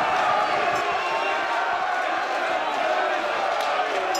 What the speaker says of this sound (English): The crowd are going nuts.